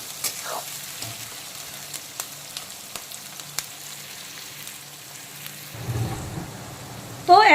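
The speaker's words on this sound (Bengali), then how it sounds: "তো এখন পেঁয়াজটাকে বেশ কিছুক্ষণ হালকা বাদামি কালার করে ভেজে নিচ্ছি।" Chopped onion frying in oil with a spoonful of sugar, cooking slowly toward light brown for a spicy soyabean curry with parwal and potato, a soft steady crackle with scattered pops and a brief louder stir near the end.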